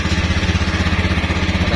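A Honda Vario 110 injection motorcycle engine running steadily at high revs with a rough, faltering pulse, its continuous buzz carrying a repeated low stutter throughout, near and fairly loud.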